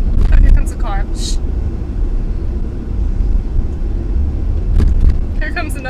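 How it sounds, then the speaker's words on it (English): A car passing on the road, a broad low rumble that swells and lingers across several seconds, heard close by with a few short bits of speech near the start and end. "Oh, here comes a car."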